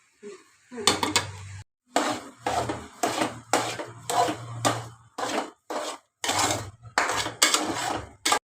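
A sweet beetroot, coconut and sugar mixture is stirred in a pan, producing repeated rhythmic scraping strokes of a spoon against the metal, close and fairly loud, with short pauses between strokes.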